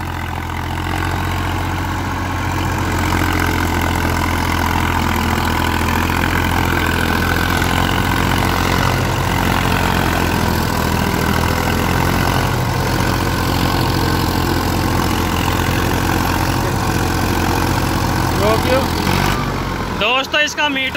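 A Massey 241 tractor engine labours steadily pulling an 8-foot rotavator, a loud continuous low diesel drone with a throbbing beat that holds for the whole stretch before briefly changing near the end.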